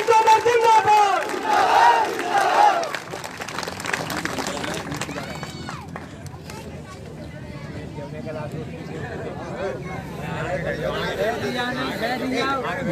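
A political rally crowd chants a zindabad slogan for a leader, the roar of many voices led by an amplified shout, loud and sustained with a reverberant outdoor wash.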